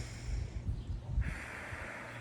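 A single deep breath drawn in through the nose, close and fairly soft, with an airy rush that shifts tone partway through before easing off.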